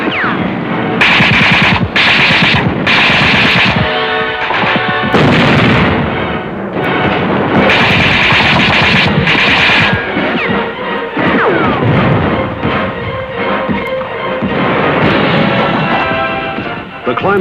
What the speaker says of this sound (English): American tanks in the infield fired their guns point blank at enemy defenders who were hidden in the grandstands.